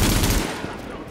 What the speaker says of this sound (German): was ist denn hier, wenn man auf die Autoscheiben schießt?